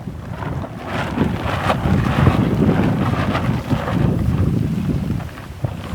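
Wind blows outdoors in strong, uneven gusts that buffet the microphone with a loud, rumbling roar for several seconds, with no voices.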